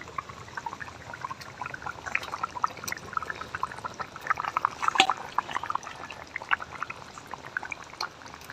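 Rui fish pieces slid into a thin boiling curry of ridge gourd and potato, giving a soft bubbling, pouring and splashing texture that rises briefly in the middle, close and moderate, with no talk.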